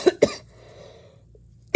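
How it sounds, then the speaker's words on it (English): Two quick, deep coughs close together, then a pause of near silence before another cough begins at the end. "You have to cough deep to get rid of the rust."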